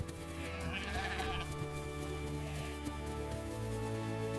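Sheep bleating on a farm as they are let out of their enclosure to graze, a few wavering calls over a steady background, fairly close.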